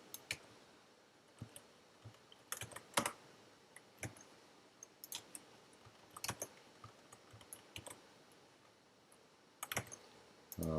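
Computer keyboard keys and clicks are pressed in a sparse, irregular pattern, single taps and short clusters close to the microphone, with no talking over a quiet background.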